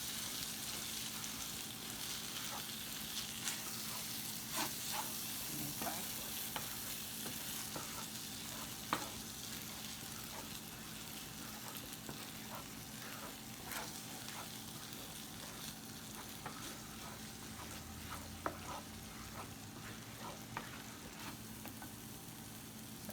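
Tex-Mex enchilada filling is stirred in a pan, producing a faint continuous sizzle with sparse light scrapes and clicks of a utensil, quiet and steady without any talking.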